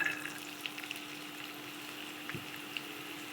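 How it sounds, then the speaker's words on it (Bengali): Spring onions frying in hot oil in a pan for green fried rice: a faint, steady sizzle with a low hum under it and a few soft clinks. "তেল গরম হয়ে গেছে পেঁয়াজের কলি দিয়ে দেবো"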